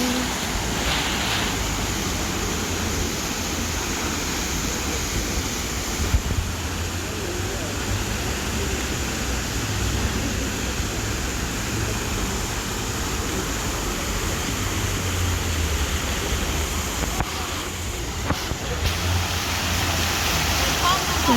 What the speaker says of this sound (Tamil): தண்ணி அப்படி பாயுது